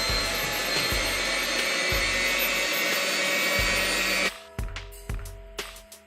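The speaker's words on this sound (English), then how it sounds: "So I'm going to go ahead and put the mixer down in there and get it started." An electric hand mixer whirs steadily as it beats coconut chocolate cake batter in a mixing bowl, a loud continuous motor drone with soft bumps against the bowl, then cutting off after about four seconds into a few scattered clatters.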